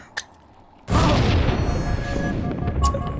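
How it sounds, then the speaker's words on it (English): A grenade explosion in Halo 2 goes off as a sudden loud boom, then a dense rumbling roar that keeps going to the end, with a faint click just before. "Do a little grenade jump here."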